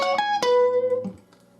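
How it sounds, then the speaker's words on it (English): A single electric guitar lick over a 9th chord shape in blues style: two quick plucked attacks ring into a sustained bent note, then a softer final note fades, played alone and clearly. "And he does a lick that sounds like this."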